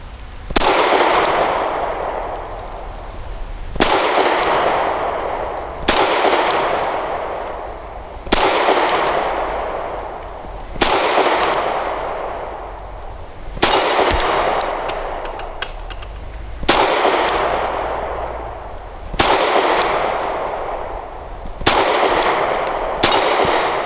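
Shots from a Grand Power P1 Ultra pistol strike a small, distant moving steel target, giving about nine sharp metallic clangs, each ringing out and fading before the next, spaced a few seconds apart.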